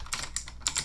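Close, quick typing on a computer keyboard while working in a command prompt, with three bursts of clattering keystrokes separated by short pauses and no talking.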